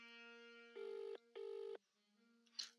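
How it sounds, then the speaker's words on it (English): A satellite phone rings in a tense drama scene: two electronic warbling rings over a steady tonal hum, then a short burst of noise as the ringing stops. Fairly quiet and without speech. "It's a sat phone."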